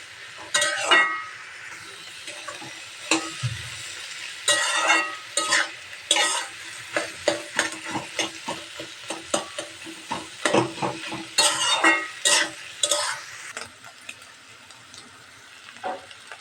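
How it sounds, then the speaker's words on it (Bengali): Kushia fish and snake gourd (chichinga) stir-fry cooking in a pan, a spatula scraping and stirring in irregular bursts over a steady sizzle, close and fairly loud with no talking. "এখন এই ভাজিটা আমি 2 মিনিটের মতো নাড়াচাড়া দিয়ে তারপরে নামিয়ে ফেলবো"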